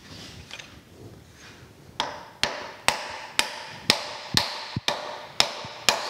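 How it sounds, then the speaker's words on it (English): A lead hammer taps a metal part down onto machining parallels in a vise, about nine sharp, ringing metallic knocks spaced roughly half a second apart, close and loud after a short quiet start. "Tapping it with a lead hammer"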